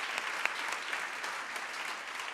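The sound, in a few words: audience applauding partner associations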